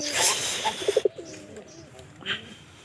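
A pigeon gives a few short, soft coos close by, with a faint voice talking underneath.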